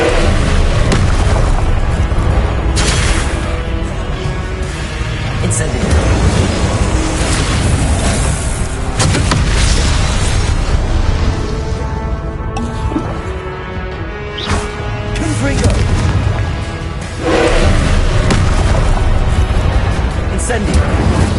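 Fire spell Incendio cast again and again in Hogwarts Legacy, a dense run of loud bursting blasts and whooshing booms over busy game noise, with a voice calling out among them.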